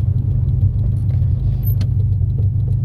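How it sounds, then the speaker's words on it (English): A turbocharged car running 16 psi of boost gives a loud, steady low engine rumble in second gear, holding even throughout without any talk. "Might give it a little blast right here. Just a small second gear."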